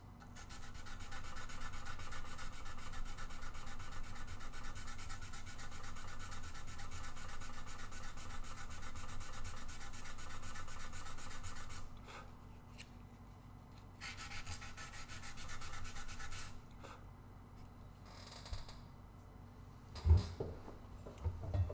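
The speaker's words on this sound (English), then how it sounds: "So much sanding." Sandpaper rubs continuously over an epoxy-filled wooden guitar body, a steady rasping hiss that turns quieter and more intermittent in the second half, with no voices.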